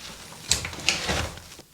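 A door being opened: a couple of sharp clicks of the latch and handle followed by a short creaking, rustling swing, close by and fairly loud, then quiet.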